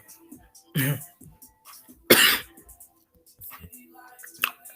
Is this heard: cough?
yes